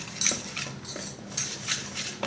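Kara boondi batter being stirred in a bowl, giving soft scraping and clinking of a utensil against the bowl in irregular strokes, close and fairly quiet, with no talk.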